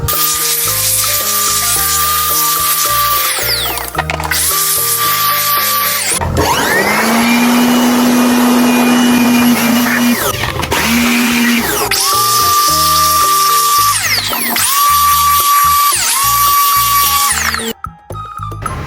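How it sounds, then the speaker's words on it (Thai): An air blower blasts dust off the motor of an electric fan being repaired. It gives loud, high whining bursts that start and stop several times, with a long sustained blast in the middle and no talking. "ผมจะเป่าฝุ่นมอเตอร์พัดลมด้วยนะครับ"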